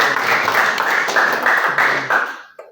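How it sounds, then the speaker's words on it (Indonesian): A church audience at a GPI Grand Wisata performance claps for the mothers in a short burst of brisk applause. It fades out after about two and a half seconds. "Tepuk tangan buat kaum ibu kan?"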